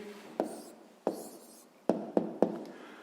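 Handwriting on paper while a math answer is written down: five separate taps and scratches of the pen, close and fairly quiet, with no talking.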